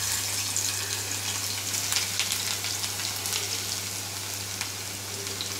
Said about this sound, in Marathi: इथे आता आपलं तेल गरम झालं आहे. आपण आता इथे ठेचलेला लसूण,